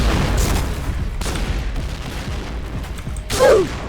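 Gunfire and a grenade explosion in a Thai-language online shooter game, a steady barrage of shots with a louder burst near the end, heard close over the game's noisy backdrop.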